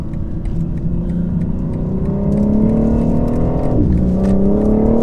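A 2020 BMW M4 Competition accelerates hard in traffic, its engine note climbing steadily and loud from inside the car. A brief dip near the four-second mark marks a gear change before the pitch rises again.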